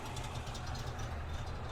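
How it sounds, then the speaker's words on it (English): A 1972 Moskvitch IZH 412 engine idles steadily after a crank start, with a low, rumbling chug and a faint rattle, continuous and close by, with no voices. "We just started the engine with the crank."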